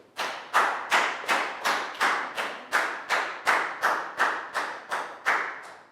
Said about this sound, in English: High five. Big round of applause for Net.